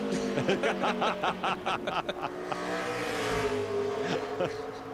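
A NASCAR Busch Series race car on a qualifying lap at Richmond International Raceway roars with a rising, pulsing V8 engine note through the gear changes, loud and near, with someone talking over it.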